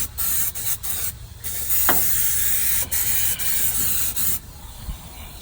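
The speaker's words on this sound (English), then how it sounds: "So I'm hitting this up with the rust former to treat it a little bit" Rust former is sprayed onto a truck in a steady close hiss from an aerosol can, broken by short pauses and a few small knocks and scrapes.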